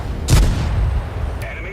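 A single heavy tank cannon shot booms close and loud in a tank video game, followed by a fading rumble and a brief metallic clink.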